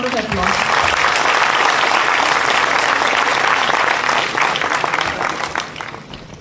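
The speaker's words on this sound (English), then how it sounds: "Let's give him a big round of applause." An auditorium audience at a youth development event claps loudly and continuously, a thick sustained roar of applause that eases off near the end.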